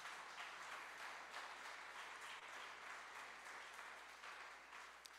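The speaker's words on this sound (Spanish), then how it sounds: "Dale un aplauso al Señor si tú lo crees así." Steady applause fills a church service, dense even clapping from a congregation holding at one level for several seconds with no talk over it.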